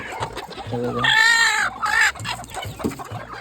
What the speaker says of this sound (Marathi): तर या पूर्ण अशा कोंबड्या इकडे बसल्यात